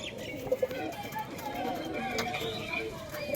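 Punjabi Malwahi pigeons give short coos and chirps at close range, mixed with background talk.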